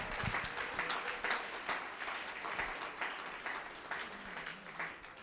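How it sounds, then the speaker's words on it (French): Church congregation applauding during a worship service, a steady wash of many hands clapping with scattered sharper claps rising and falling, moderately close and continuous with no talk over it. "Acclamez Jésus."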